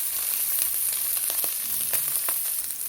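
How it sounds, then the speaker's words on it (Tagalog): Onions fry in a pan for munggo with spinach, giving a steady close sizzle with a few crackles and light stirring sounds, no one speaking. "Lagay na natin yung ating sibuyas"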